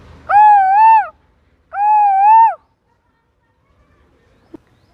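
A child imitates the call of an Asian koel with his voice, giving two clear, rising, hooting calls close to the microphone, each about a second long. A faint click follows in near silence.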